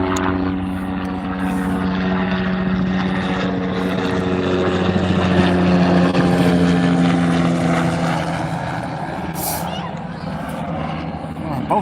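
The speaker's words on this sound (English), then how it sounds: "Helicopter." A helicopter drones overhead with a steady rotor hum and low throbbing tones, fairly loud and sustained, fading slightly toward the end.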